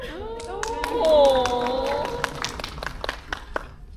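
Scattered hand claps at a film meet-and-greet, sparse and uneven, beneath a voice talking over them; the clapping is moderate in loudness and fades into occasional taps.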